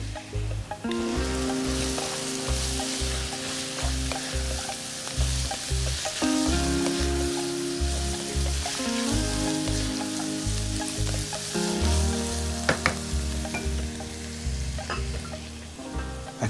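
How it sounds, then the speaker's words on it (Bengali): Carrot cubes sizzle and crackle continuously in a hot pan with occasional stirring, a steady close frying hiss over faint background music. "আমি পুরোটাই গাজর কিউবগুলো দিয়ে দিলাম"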